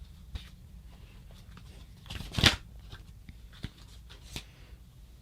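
Tarot cards are handled and stacked on a table: quiet soft clicks and shuffles, with one louder slapping snap midway.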